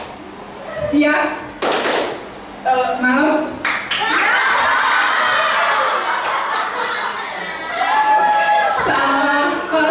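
A group of children playing a call-and-response clap game in an Indonesian school setting: sharp bursts of hand claps alternate with a leader's shouted cues, chanted replies and bits of laughter, close and lively.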